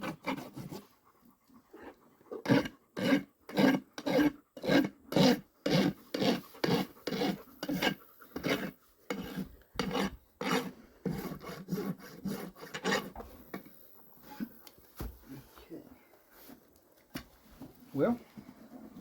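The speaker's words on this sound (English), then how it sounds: "Then we take the smooth side of the rasp" A farrier works the smooth side of a rasp across a horse's hoof while shoeing, giving a steady run of loud, rhythmic rasping strokes, about two per second, that thin into softer, irregular scrapes near the end.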